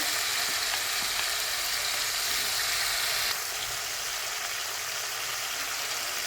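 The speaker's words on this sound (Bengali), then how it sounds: "ভালোভাবে একটু ভেজে নেব।" Fish and eggplant frying in a pan with chopped onion, giving a loud, steady, close sizzle that runs throughout without talking.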